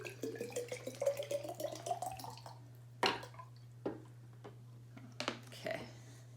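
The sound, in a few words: water poured from one bottle into another bottle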